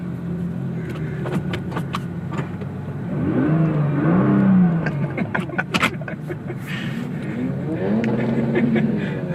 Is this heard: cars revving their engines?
yes